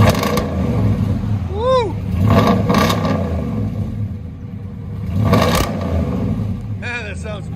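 A 2010 Dodge Ram 1500 with a 5.7L HEMI V8, dual exhaust and Black Widow Race Venom mufflers gives a deep, steady, loud rumble that swells briefly as it revs, while a person exclaims and talks over it.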